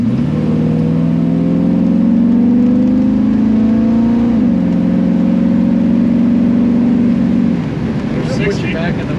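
A 1933 Ford Roadster with a 350 V8 runs at a loud, sustained drone while driving, its pitch rising and shifting as the engine is pushed, then the throttle eases off near the end.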